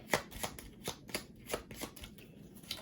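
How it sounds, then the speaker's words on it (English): A deck of Star Wars Imperial Assault cards being shuffled by hand: a quick series of riffles, about a dozen crisp, papery flutters in a steady rhythm, close and alone. "So we just actually shuffle these up."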